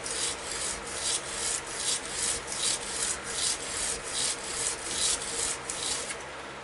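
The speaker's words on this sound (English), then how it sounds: "I could take it right back to the grinder, and I can do a couple passes to pull these out" Steady rhythmic abrasive strokes of a hunting knife blade being worked on a grinder, repeated passes rising and falling at close range with no talking.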